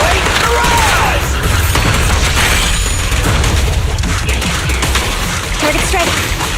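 A Starlight Barrage special attack in Zenless Zone Zero unleashes a loud, dense barrage of rapid gunfire and booming blasts that roars without letup, with brief character voice lines over the din.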